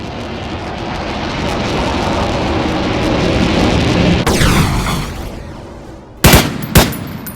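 Rifle fire in the online shooter War Tycoon, with a G3 battle rifle mentioned: a dense, continuous roar of battle for several seconds, then a brief lull before two loud, sharp isolated shots near the end.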